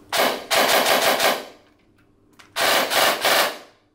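An Armoury Venom SPL gel blaster fitted with a 30K motor fires full auto at about 24 rounds per second in two quick buzzing bursts, each a little over a second long, close and loud with a short pause between them.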